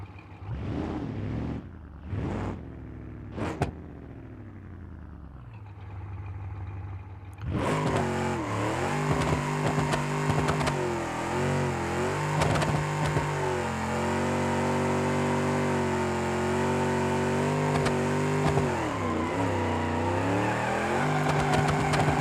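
A supercharged car in the BeamNG.drive driving game revs loudly and continuously, with a few short throttle blips at first, then a sustained high-revving engine note with shifting pitch, close and steady.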